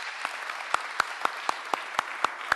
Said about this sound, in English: How about a round of applause for Commissioner Rivas?